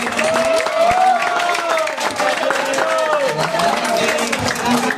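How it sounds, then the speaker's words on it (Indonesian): An audience at the final of a Fahmil Quran competition in Palembang applauds a finalist, with sustained clapping from a crowd running beneath a loud voice speaking over a microphone. "silakan beri tepuk tangan kembali yang banyak untuk Ibu B."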